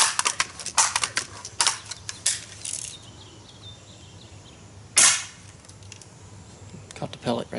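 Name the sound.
pellet gun shot hitting a target wing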